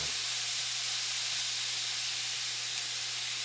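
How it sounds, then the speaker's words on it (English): Fried collard greens sizzling in the last of the oil in a pot: a constant, even hiss held close and unbroken, with a low steady hum underneath and no voices. "You can hear it frying."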